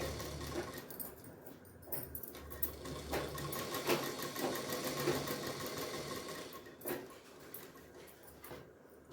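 A home sewing machine stitching cloth, a fast steady whirring rattle of the needle running continuously with brief pauses and shifts, close and moderately quiet, no talking.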